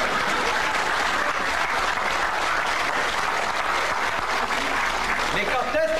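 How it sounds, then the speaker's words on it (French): Sustained audience applause fills a theatre during a 1993 local dialect revue in Étaples, dense and steady throughout, with a voice briefly audible near the end. "Vous voulez applaudir, madame?"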